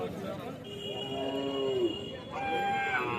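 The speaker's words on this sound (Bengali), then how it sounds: "এখানে একটি ষাঁড় গরু আছে বন্ধু দেখতে পাচ্ছ" A brown bull at a small cattle market in Dakshin Barasat gives two close, loud moos, the first long and drawn out, the second shorter, over a faint market background.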